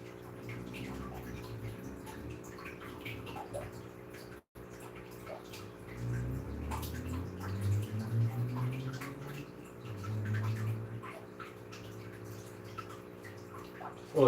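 Water filling an aquarium tank during a water change, a soft continuous trickle and rush at low level with faint gurgles, steady across the whole stretch.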